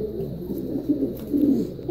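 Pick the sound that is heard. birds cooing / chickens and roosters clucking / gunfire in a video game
birds cooing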